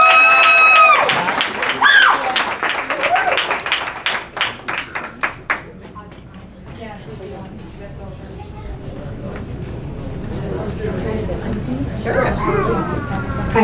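An audience claps for a singer. Brisk applause lasts for several seconds with voices over it, then thins into a low murmur of the room.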